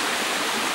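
Rushing water at Mineral Creek Falls, a loud, steady broadband roar of a waterfall and stream, close and unbroken for under a second with no talk.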